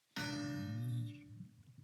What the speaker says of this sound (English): I'll just ring the doorbell.